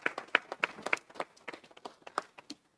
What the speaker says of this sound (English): So give him a round of applause because he deserves it.